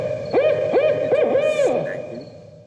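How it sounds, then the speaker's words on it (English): Barred owl hooting, a run of four clear rising-and-falling hoots in quick rhythm, close and loud, trailing off at the end. "Second barred owl sound"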